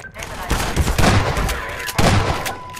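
Rapid automatic gunfire from Half-Life 2 rattles in loud, dense bursts, with a sharper volley near the start and another near the end, filling the whole stretch with layered battle noise.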